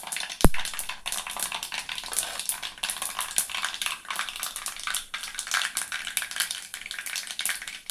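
Hot oil sizzles continuously with scattered crackles and pops of mustard seeds for vatha kulambu, one sharp clink of a utensil near the start.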